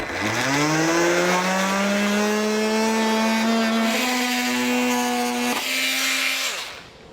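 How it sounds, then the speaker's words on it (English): A multi-tool cuts through plastic trim on a 2018 Ford Edge, a loud, steady buzzing whine that rises in pitch at the start, holds for several seconds, then shifts and drops away near the end. "I'm just going to use a multi-tool to cut this"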